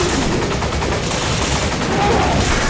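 Rapid bursts of Resident Evil 5 gunfire crackle continuously at a steady loudness, a dense barrage with no pauses.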